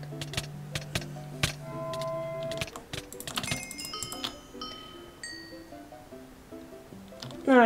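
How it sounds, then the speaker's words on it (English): A mobile phone vibrates with a low, steady buzz for the first few seconds, partly under bright electronic chimes and tones from a handheld video game, then stops while the game sounds continue. "ignore that buzzing noise."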